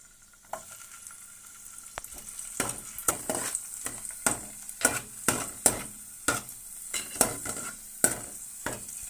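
Ingredients fry in a pan for rava laddu while a spoon stirs them in a steady rhythm of scraping strokes over a soft, continuous sizzle, faint and close, with no voices.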